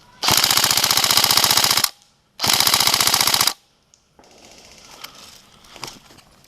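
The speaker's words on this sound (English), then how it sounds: "Suppressive fire more than anything else at this kind of range." Airsoft guns fire suppressive bursts at long range, two loud sustained rattling volleys of rapid shots separated by a short pause, followed by quieter scattered background rustle and faint distant pops.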